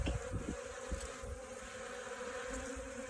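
Bees forage on used coffee grounds at a backyard compost bin, giving a steady, close insect buzz with faint wingbeat flutter that holds evenly throughout.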